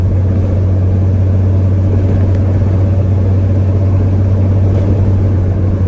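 A 1979 Chevy C-10 pickup truck, revived after eight years in a tow lot, driving along: a loud steady low engine drone and road rumble from inside the cab, continuous with no talk.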